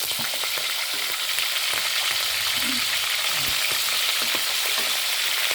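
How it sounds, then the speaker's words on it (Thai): Steady, dense sizzling of mackerel frying in hot oil in a pan fills the whole stretch, a constant crackling hiss with occasional small pops. "เดี๋ยวจะทอดไปเรื่อยๆนะคะ"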